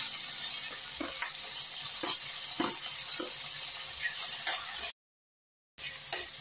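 Tomatoes hit fried onions and green chilies in a pan, giving a steady sizzle with rhythmic stirring scrapes, then a sudden silence before the sizzle returns.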